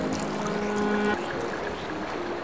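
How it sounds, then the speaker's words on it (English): Water pouring steadily into a bucket in Pikmin 3 Deluxe, a continuous bright splashing rush that shifts slightly in tone partway through and carries on to the end. "Somebody's filling up his water bucket."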